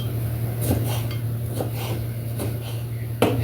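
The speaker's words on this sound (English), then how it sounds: "So I'm going to finish chopping these tomatoes" Kitchen knife chopping tomatoes on a cutting board: a handful of soft, irregularly spaced taps and knocks over a steady low electrical hum, fairly quiet and with no talking.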